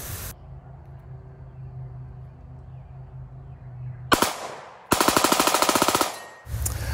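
A Micro AR-9 rifle fires outdoors: a single sharp shot, then a rapid, loud burst of rounds, and another report cut off at the end.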